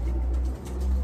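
An English pigeon coos close by, a pair of soft low rolling coos with a brief dip between them over faint background hiss.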